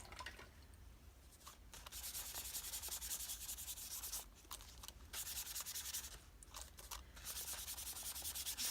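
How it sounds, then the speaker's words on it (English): Paper of a quilt-covered journal page being rubbed to distress it, a steady dry scratchy rubbing close by that runs in bursts with a few short pauses, no talking. "I think I'm going to add some more distressing to that page."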